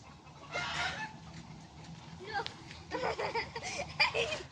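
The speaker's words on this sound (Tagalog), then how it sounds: "nagtakbuhan yung mga manok" Native chickens on a farm cluck and squawk as they run in a busy, scattered flurry, fairly faint against background noise, with voices speaking intermittently.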